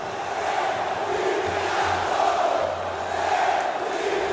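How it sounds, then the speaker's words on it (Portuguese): Vasco supporters in a packed football stadium roar and chant after their side beats Flamengo 3-2, a steady, dense crowd cheer that swells slightly in the middle, with no voices standing out. "Vibra a torcida Cruz Maltina."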